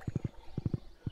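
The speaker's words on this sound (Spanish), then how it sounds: "El caballo es muy gordo." A horse's hooves clip-clop in Stardew Valley in quick groups of three soft thuds, repeated three times with short pauses between.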